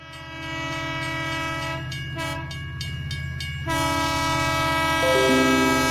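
A train sound effect carries a loud, sustained multi-tone horn blast over a steady rolling rumble; the horn pauses briefly, then sounds again with a shifting pitch near the end. No speech is present.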